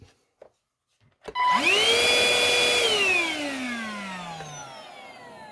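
A repaired cordless hand vacuum starts up after a couple of faint clicks, its motor whining up to a steady loud pitch that then slowly sags and drops over several seconds, heard alone and close.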